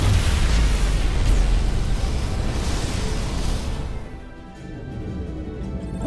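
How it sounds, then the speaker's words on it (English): A dilithium crystal blows up in the video game Star Trek Resurgence: a loud, rumbling blast that swells at once, then fades over a few seconds into a quieter hum. "Whoa! Dilithium explosion!"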